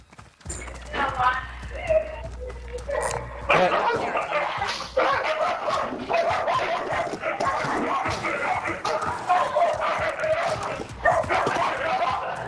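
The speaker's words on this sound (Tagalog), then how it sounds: "Ayun, bubuwa ng aso na." A dog barks in the Call of Duty Warzone battle royale game, a few sharp barks amid clattering in-game footsteps and effects, heard under steady talk from a player.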